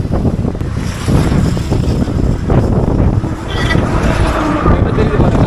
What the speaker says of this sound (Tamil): காற்று சவுண்டு பயங்கரமாக கேட்கும்னு நினைக்கிறேங்க.